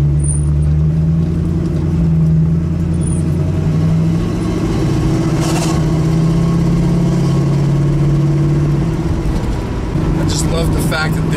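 A 1965 Ford Mustang Fastback engine idles loudly and steadily up close with a deep, even rumble, while a person talks over it.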